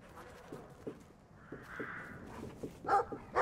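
A dog gives a few sharp yips and barks near the end, preceded by faint, quieter yelps over low background noise.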